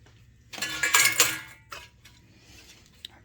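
Small metal parts from a 1959 Tonka pickup toy truck, including hubcaps, discs, a bumper, wire and axles, clink and rattle together in a brief cluster of bright metallic taps, followed by a few scattered clicks.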